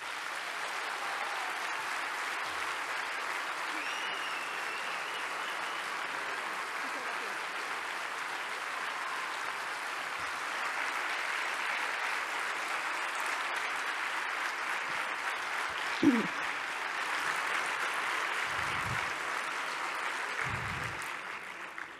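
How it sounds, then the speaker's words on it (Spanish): Sustained audience applause at a business excellence awards forum in Huesca, a steady dense wash of clapping from a crowd, with a few louder close claps near the end. "Muy merecido ese aplauso."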